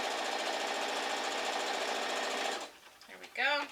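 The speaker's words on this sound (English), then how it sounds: "Alright, one more sew here." A sewing machine stitches a quilt block seam with a steady, fast mechanical whir for about two and a half seconds, then stops, and a voice speaks briefly afterward.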